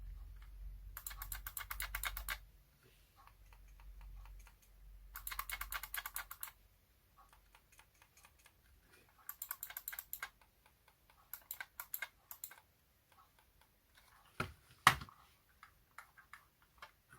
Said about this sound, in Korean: 제가 기존에 노트북에 사용을 하고 있는 로지텍 마우스와 비교를 해보면 소음 차이는